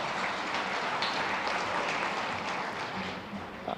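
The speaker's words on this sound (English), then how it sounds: "give yourselves an applause for showing up here tonight for the chamber" Audience at a chamber of commerce annual evening meeting applauding, dense continuous clapping filling the room, loud and steady before tapering slightly at the end.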